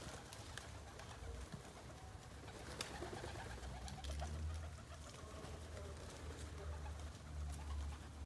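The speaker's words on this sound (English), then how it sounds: "There's this brown pigeon." Pigeons, including a brown one, coo softly outdoors in Plymouth, with low, repeated rolling calls over a faint, continuous background hiss.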